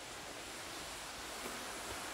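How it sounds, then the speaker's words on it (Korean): Roadside waterfall just beyond a tunnel exit in an autumn scenic area pours as a steady, soft, broadband rush of falling water with no voices, even and unbroken throughout. "터널을 통과하면 길가에 바로 폭포가 자리 잡고 있는데요."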